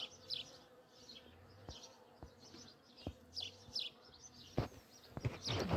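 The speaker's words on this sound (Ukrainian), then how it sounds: "Це не рій, це розвідка." Scout honeybees buzz around a house where a first swarm is settling in, their drones rising and fading in repeated passes, with a few sharp clicks and a louder, busier buzz toward the end.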